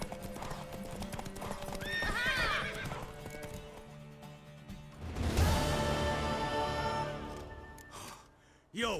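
Horse hooves clip-clop and a horse neighs loudly in The Witcher 3, with snorts and breathy gasps mixed in and game music underneath, the whinny rising sharply partway through.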